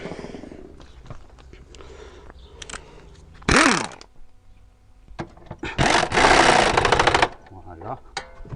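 A ratchet fitted with an extension and a 15 mm socket tightens a rear upper suspension arm bolt on an Alfa Romeo 166. Two close bursts of rapid clicking sound between handling noises, with a person talking nearby.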